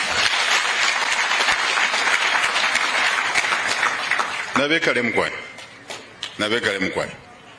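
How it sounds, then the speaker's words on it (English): An audience at a political speech in Muchinga Province breaks into dense, loud applause for about four seconds; it then thins out while a voice speaks over the last scattered claps. "We must clap a little bit more for him."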